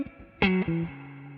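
Electric guitar through a Mesa Boogie Lonestar amplifier with reverb: a couple of picked notes ring out clearly, then a sustained tone decays with a reverb tail.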